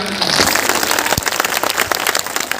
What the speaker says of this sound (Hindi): आप सभी के लिए मैं एक जोरदार ताली चाहता हूं